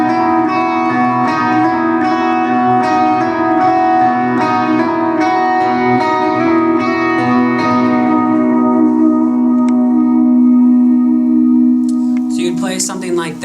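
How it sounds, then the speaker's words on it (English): Electric guitar with reverb and echo effects plays the lead line of a song as a rhythmic, repeating melodic figure, sustaining and fading before a brief scrape of strings at the end. "So the lead line in that song sounds something like this"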